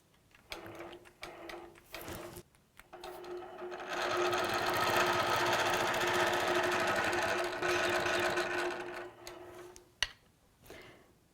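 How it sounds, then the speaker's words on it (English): A longarm quilting machine stitches in the ditch with templates for stacked-arc borders and sashings, making a steady, close mechanical whir that runs continuously for several seconds amid shorter bursts and clicks before and after. "So I would stitch in the ditch down here."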